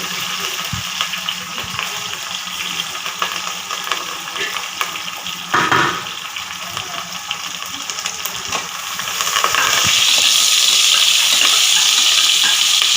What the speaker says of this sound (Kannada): ಸಾಸಿವೆ ಪಟ ಪಟ ಸಿಡಿಬೇಕು ಈರುಳ್ಳಿ